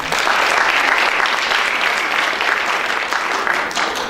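Enthusiastic audience applause at a school fashion show in Viljandi, a dense and lively burst of many hands clapping at full strength, then tapering slightly toward the end, with no talking.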